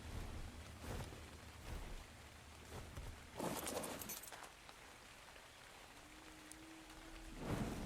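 Rain falls steadily in the ARK survival game, with bursts of heavier noise like thunder or gusts breaking through a constant hiss and a faint tone near the end.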